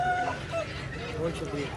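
Aseel roosters cluck and crow briefly at a moderate distance, with background murmur around them.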